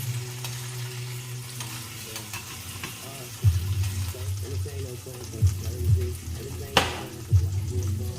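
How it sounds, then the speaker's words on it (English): Steady sizzling of vegan fillets frying in a pan, with sharper pops and crackles as pieces shift, close and fairly loud throughout. "Come on, sizzle."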